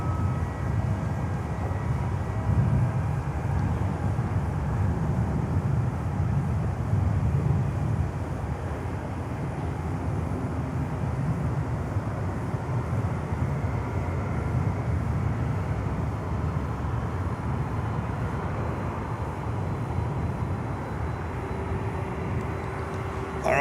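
Cargo aircraft at Miami airport, a LATAM 767 on the move, giving a steady low rumbling jet roar that holds throughout with a faint tonal whine appearing near the end.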